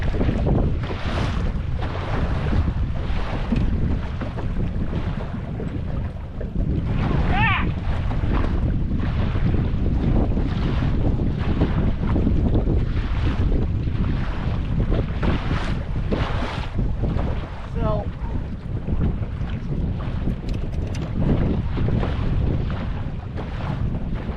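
Strong wind buffets a boat out on Lake Michigan during a trolling trip for lake trout, a steady loud roar of gusts and microphone wind noise with water sloshing beneath, continuous through the whole stretch.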